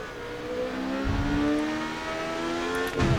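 Race car engine in the Grid Autosport video game whines steadily through a tricky corner, with pitch shifts as it brakes and reaccelerates, and a brief thud near the end, loud and close.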